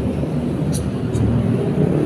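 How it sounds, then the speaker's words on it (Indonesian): A sand truck from Mount Merapi passes on a road at night with a loud, continuous low rumble of traffic, marked by a couple of brief high squeaks. "Ini kalau malam itu masih banyak truk pasir."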